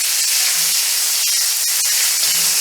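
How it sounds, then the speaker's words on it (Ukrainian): Strips of meat hitting well-heated oil in a pan, a loud continuous hissing sizzle with a few faint clicks of stirring, close and alone. "У гарно розігріту олію викладаємо м'ясо"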